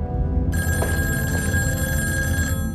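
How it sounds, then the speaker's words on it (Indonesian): A telephone rings in a film scene, a bright electronic trilling bell that starts abruptly and rings continuously for about two seconds over a steady low ambient rumble. "mendengar dering telepon yang ia pikir adalah Helen"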